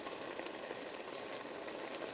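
Braised kale sizzling and frying in a pan on medium heat, a steady dense crackle that holds evenly close up throughout while it is stirred, with no voices.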